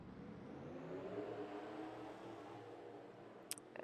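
A pace car in a stock car racing game leads a nine-car field around a short track under the lights at night, a smooth mid-pitched engine hum that swells slightly and holds steady, ending with a couple of sharp clicks.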